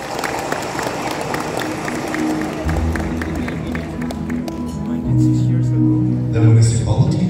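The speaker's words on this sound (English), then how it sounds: "please give a round of applause for Mayor Marcos Mamay" An audience in Lanao del Norte applauds as the mayor is introduced at a public event, with steady clapping under a speaking voice and a musical tone rising toward the end.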